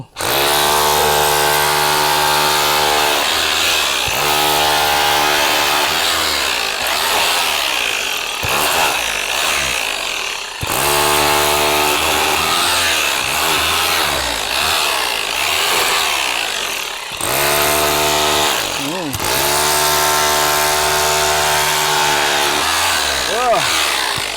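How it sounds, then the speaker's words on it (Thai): An electric rotary hammer drill breaking thick poured concrete roars and grinds in long bursts, pausing briefly between them, harsh and close with a rattling, hammering texture. "ระบบเจาะกระแทกนะสำหรับเจาะผนังปูน"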